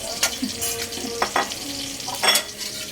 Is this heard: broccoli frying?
yes